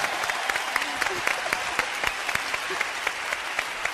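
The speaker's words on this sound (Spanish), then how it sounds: "Un aplauso." A theatre audience at a comedy show applauds with steady, even clapping that carries on for the whole stretch, some nearer claps cutting sharply through the crowd's wash of sound.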